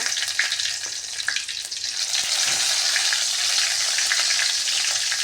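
Fennel seeds, cinnamon stick and bay leaf hit a hot pan and sizzle and crackle loudly, the frying hiss settling into a steady sizzle with a few stirring clinks.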